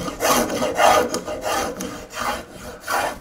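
A spokeshave is pushed along wood to take off edges and surfaces, giving a series of rhythmic rasping shaving strokes, close and fairly loud, with no talk.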